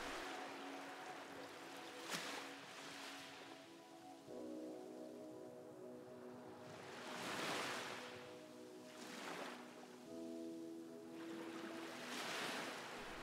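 Ocean waves wash onto a shore in slow, rolling surges that swell and recede every few seconds, joined by a soft, steady melodic tone of sustained notes underneath.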